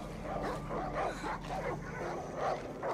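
Dogs in the video game Far Cry 5 barking repeatedly in a quick irregular series, moderately loud against a low background hum.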